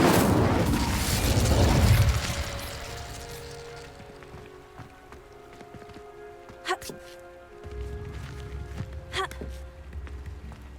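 A burst of fiery magic from an Incendio spell in Hogwarts Legacy flares loudly at the start and then fades, with softer magical chimes and pops following in the background.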